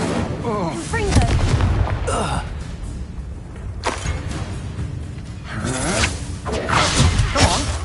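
Spell explosions and blasts in the Hogwarts Legacy video game: repeated booming, whooshing impacts in quick succession, loud and dense, with a voice talking over parts of the fight.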